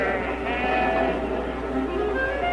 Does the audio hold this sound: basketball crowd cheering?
no